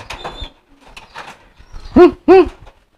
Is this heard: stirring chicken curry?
no